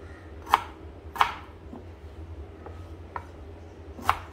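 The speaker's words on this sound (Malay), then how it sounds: "So kita hiris ke bahagian yang sedikit kecil ha," Young ginger is sliced into small pieces with a knife on a board, giving several sharp, separate chops at an uneven pace, three louder and a couple softer, close and clear with no talking.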